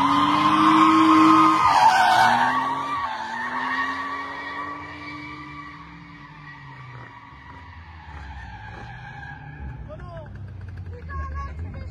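A car drifts around a roundabout on arrival at a car meet, tires squealing in long sliding streaks that fade over several seconds, with crowd chatter and voices underneath.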